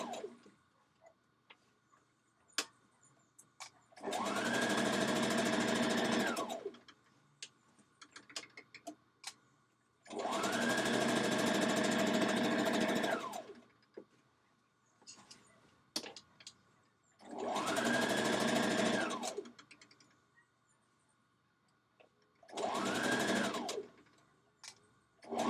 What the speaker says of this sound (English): So we back stitching and we hemming the dress in place.